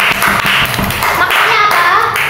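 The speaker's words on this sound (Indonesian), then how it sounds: "Tepuk tangan semuanya." Schoolchildren in an elementary classroom clap their hands together, a loud, close, uneven burst of many small hands lasting about two seconds, with a few voices mixed in.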